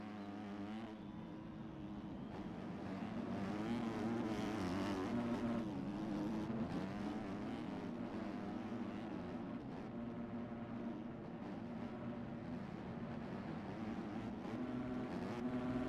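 Motocross bikes racing on a dirt track at a pro-am event, engines droning and revving steadily in the middle distance, rising and falling as riders pass.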